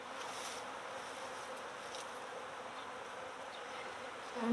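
Honey bees buzz steadily around an opened hive, a soft continuous drone of many insects with no voices.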